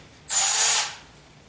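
Ratchet or power driver running a self-tapping bolt into a transmission crossmember on a 1976 Corvette restomod, one steady half-second burst of whirring, clicking drive, close and loud, with no talk.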